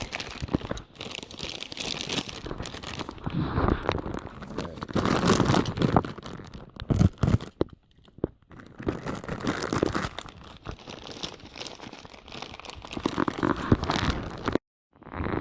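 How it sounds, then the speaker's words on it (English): Knife slicing and tearing through the packaging of a Kryptonite ball joint, with close, busy crinkling, ripping and crunching of plastic and cardboard nearly throughout, pausing briefly near the end. "Let's grab a knife, cut this stuff open with, and see what we get here."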